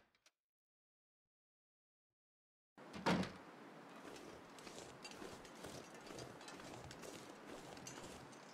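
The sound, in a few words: door opening in The Long Dark video game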